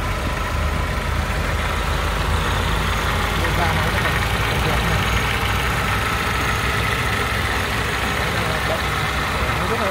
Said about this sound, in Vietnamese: cái động cơ này nó nổ rất là êm, khô gió sạch sẽ.